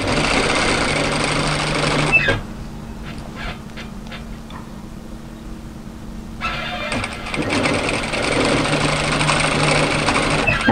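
A sewing machine stitches a seam on a mid-length wrap cardigan, running in a fast steady whir, pausing briefly in the middle with soft handling clicks, then resuming close and loud.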